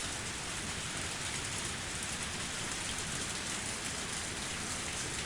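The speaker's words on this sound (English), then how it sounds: "Only the sound of the pouring rain filled up the silence." Heavy pouring rain from the video game Higurashi forms a dense, unbroken roar that stays loud and uniform throughout, with no voices.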